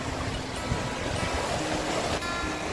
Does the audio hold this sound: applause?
no